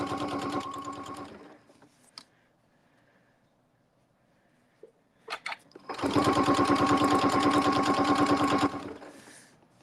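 A sewing machine stitches down a log cabin quilt panel in fast, even mechanical bursts: a short run, a pause of near silence with a few faint clicks, then a longer, louder run that stops abruptly.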